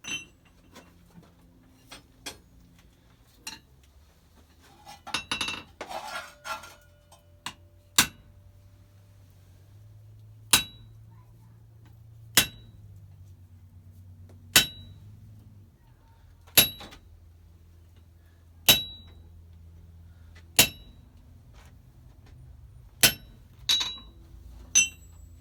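Metal blacksmith chisels clink as they are sorted in old buckets, a series of sharp, ringing metallic hits spaced a second or two apart, with a brief cluster of rattling in the middle and no talk.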